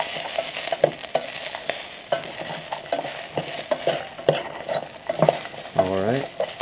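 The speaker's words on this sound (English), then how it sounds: "I'm going to add about half the bag of bacon bits into the pot. There you go. Alright, and I'm going to give that a stir." Ramen and bacon bits are stirred in a pot over a camp stove, with repeated scrapes and clinks of a utensil against the metal over a low sizzle. A short rising squeak comes near the end.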